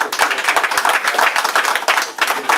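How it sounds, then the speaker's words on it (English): Audience applause at a community gathering, a dense round of clapping from a small crowd with some individual claps standing out, close and fairly loud. "I want you to give Miss Norma a big round of applause."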